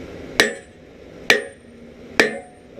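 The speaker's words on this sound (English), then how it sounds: "You'll see it's flat when I hit it from this side." Three sharp, ringing hammer blows strike hot steel on an anvil while forging a chisel, evenly spaced about a second apart, loud and close with a short metallic ring after each.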